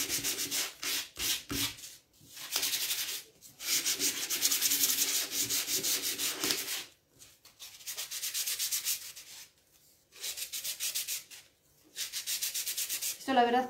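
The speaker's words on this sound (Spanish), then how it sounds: "vamos a lijar." Sandpaper rubs by hand over a wooden letter in repeated bursts of close, steady scratchy strokes, separated by short pauses.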